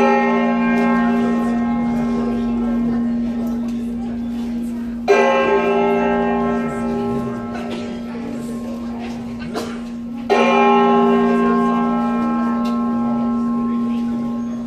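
A recreation of the cracked Liberty Bell rings three times in slow succession, each heavy strike followed by a long, humming decay with a dull, slightly rough tone.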